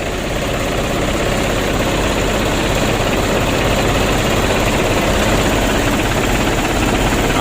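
An aging Hino Ragasa 120 PS truck diesel, running rough with a misfire and shaking its cab, idles loudly nearby in a dense, steady throbbing rumble with no pauses.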